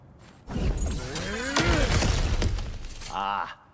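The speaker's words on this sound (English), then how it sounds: "back to smashing through things for fun and profit" Cracked ground in God of War Ragnarok shatters and breaks apart with a loud crash and rumbling debris, under a voice talking throughout, ending in a short ringing tail.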